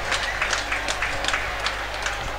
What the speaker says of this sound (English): getting a really warm round of applause from a very good footballing side